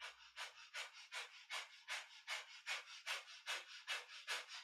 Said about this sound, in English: So breath of fire is our panting breath through the nose.